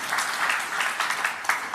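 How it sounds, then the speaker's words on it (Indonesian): A church congregation claps together after the pastor's call, giving steady, dense applause throughout at moderate distance with no voices over it. "Tepuk tangan yang meriah bagi Tuhan Yesus."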